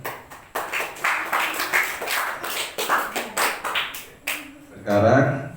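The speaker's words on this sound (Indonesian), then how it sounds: "Tepuk tangan dulu dong." Schoolchildren at an elementary school event clap their hands in a burst of rhythmic group claps, several loud, even beats in a row before a voice speaks at the end.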